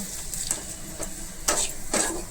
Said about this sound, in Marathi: चला आता आपण रवा त्याच्यामध्ये चांगला लाल भाजून घेऊया व्यवस्थित